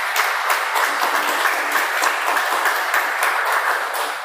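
Church congregation clapping during a men's evening service, a loud, dense and steady round of applause that holds evenly before easing slightly at the end.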